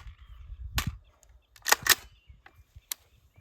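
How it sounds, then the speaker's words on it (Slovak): Supersonic .300 Blackout rifle rounds heard from 750 metres away: a few sharp, distant cracks spaced irregularly, fairly faint, with quiet outdoor background between them. "Teraz si strelíme supersonické strelivo."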